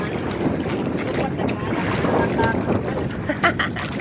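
Strong sea waves surge and wash around a fishing boat, a loud continuous roar of water with wind buffeting the microphone and brief splashes cutting through.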